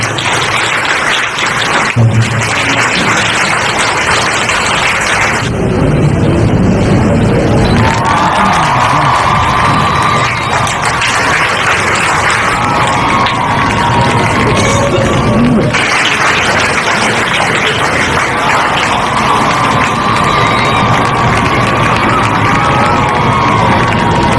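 A crowd at a student prize-giving ceremony held by a charitable trust in Vadodara cheers and shouts loudly and steadily, with bursts of excited voices swelling and easing over the full stretch.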